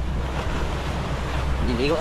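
Ocean waves at sea wash steadily with wind noise buffeting the microphone, a continuous rushing surf held close and fairly loud for the whole short stretch.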